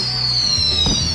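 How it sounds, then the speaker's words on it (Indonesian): Fireworks go off in a brief burst: a high whistling tone over dense crackle and low rumbling pops, fairly loud and close with no speech. "Wow, cantik banget. Kembang api sungguhan."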